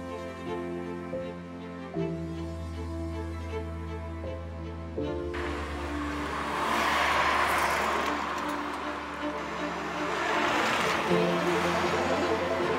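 A BMW E36-based Alpina with a 4.6-litre V8 drives along, its engine droning steadily from inside the car, then rising as it pulls harder with broadband road and wind roar building over the later seconds.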